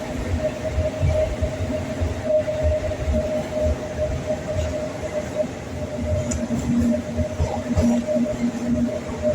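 The Matsyagandha Express on the Mangalore–Barkur route runs through a small station without stopping, heard as a steady loud rumble and rattle of wheels and carriages with a sustained hum, continuous for about nine seconds.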